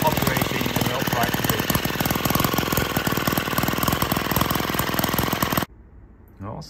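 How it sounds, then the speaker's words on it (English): A tiny compressed-air powered engine generator with a USB charger runs near the microphone, a rapid steady clatter that stops abruptly near the end, leaving quiet room sound. "the engine will run again"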